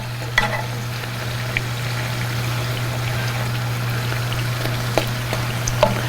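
Homemade chips fry in oil with a continuous close sizzle, punctuated by a few clicks and taps as they are turned, over a steady low hum, no speech.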